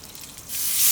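A short hissing spray of oil onto a griddle bursts out and grows louder, a close, sharp aerosol spritz lasting under a second.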